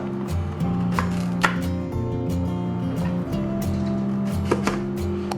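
A knife chopping sweet potato on a cutting board, several firm, close chops spaced irregularly over a continuous low background hum.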